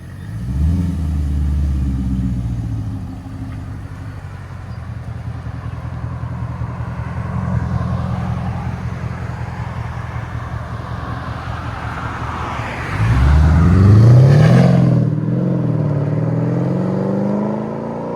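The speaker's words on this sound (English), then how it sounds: "Mercedes SL 550. Muffler deletes." A Mercedes SL 550 with a 5.5L V8 and muffler delete idling with a deep, raspy burble, then revving hard to a loud, rising roar before settling back to a rumbling idle, close up with no talking.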